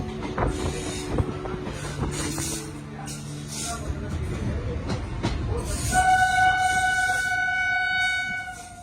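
A train approaches fast along the railway line near Kanpur in Jalaun district, its rumble and rattle building steadily while a sustained horn blares over the last few seconds, growing louder as it draws near.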